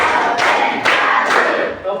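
A group claps in unison on a count, with three sharp, loud clap bursts spaced evenly about half a second apart, each followed by a brief ringing tail in the room.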